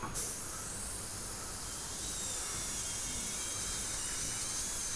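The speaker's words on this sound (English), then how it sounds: "I have my airbrush, I have my paint inside in it" Airbrush spraying paint onto a 1/35 scale Italeri Tiger (P) Elephant model kit, giving off a continuous, even hiss of air and paint that starts abruptly and stays steady and close, with no talking.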